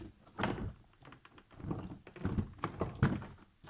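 Plastic door trim panel clips on a Ford Focus 2 are pried and pulled off, giving a series of irregular muffled thunks, knocks and taps, close and fairly quiet, with no voices.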